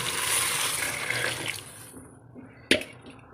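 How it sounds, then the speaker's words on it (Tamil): Water pours in a steady rushing stream into a cooking pot of chicken curry for about a second and a half, then stops, followed by a sharp metallic clank. "தண்ணி ஊற்றியாச்சுங்க."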